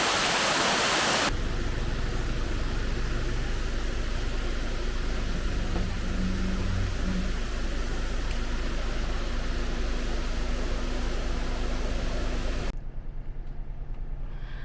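Continuous broadband rush of a water stream flowing down out of the forest toward Kappimala waterfall, steady and fairly loud, with a faint low tonal hum in the middle and the roar dropping off sharply near the end.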